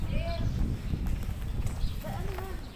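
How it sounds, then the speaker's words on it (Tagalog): A horse's hooves clip-clopping on a hard surface outdoors, a light rhythmic clatter under steady talk and background noise, with a few faint high calls heard in the mix. "sakay na kayo sa kabayong Cake"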